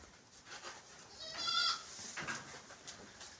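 Goats bleating inside a shed, a few wavering calls rising to a louder cry mid-way, heard close with faint rustling and no talk.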